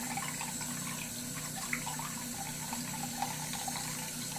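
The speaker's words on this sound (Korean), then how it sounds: "물소리 나니까 좋아." Steady running tap water pours continuously while a parrot is bathed, like a tap filling a basin, with a low constant hum underneath and no talking.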